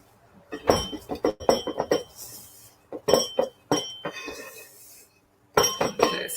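Keto cookie dough being mixed in a bowl, likely glass, with a spatula, giving quick bursts of clinks and scrapes with short pauses between, close and clear with no talk.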